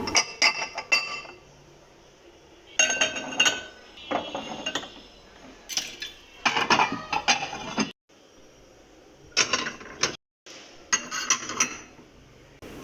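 After an iftar meal, dishes and glasses are washed and put away one at a time in a kitchen, with bursts of glass and steel clinking and clattering separated by short pauses, close and fairly quiet.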